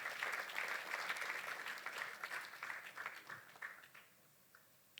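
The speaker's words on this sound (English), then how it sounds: "Can we clap for the speakers?" Symposium audience on estate planning in Uganda clapping for the speakers, a steady wash of many hands that thins and fades out near the end.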